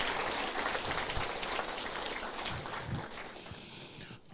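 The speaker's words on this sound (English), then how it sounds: "Can we give a big round of applause once again," Faint applause from an audience at a Duke of Edinburgh Award ceremony honouring the Prime Minister, a soft, even patter of clapping that ends abruptly.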